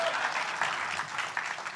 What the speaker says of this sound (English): you guys can clap about all that.